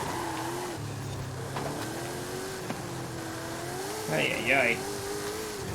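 A DeLorean DMC-12 fitted with a twin-turbo V8 in the racing game Forza Horizon 5 drones steadily with a rising and falling engine tone, a brief sharp surge near the end, while someone talks over it.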